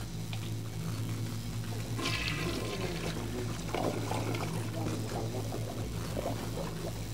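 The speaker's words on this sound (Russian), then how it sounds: "О, призрачный унитаз." A ghostly toilet in Ghostbusters: The Video Game gurgles and rushes with water, a steady flushing pour over a low game hum, with faint talk in the background.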